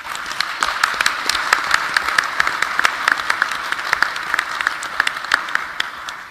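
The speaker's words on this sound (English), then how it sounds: "please join me in a round of applause for this fantastic panel" A conference audience gives a round of applause for a regional security panel: dense, sustained clapping from many hands, loud and even from start to finish, with no speech over it.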